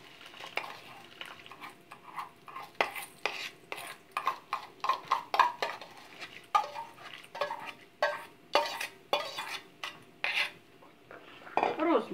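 Buckwheat porridge is stirred in a pot with a spoon, producing a steady run of close, clinking and scraping strokes against the pot, with no voices.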